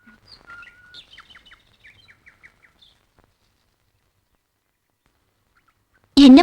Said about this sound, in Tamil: இங்க இருந்தா பறவைங்க பறக்கிறது, அதுங்க கத்துறது